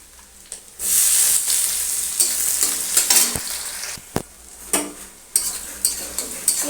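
Chopped onion dropped into hot oil in a pan, with a loud steady sizzle and a spoon scraping and clinking against the pan as it is stirred.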